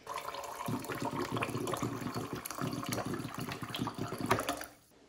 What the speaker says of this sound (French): Je vais à nouveau rajouter 200 ml d'eau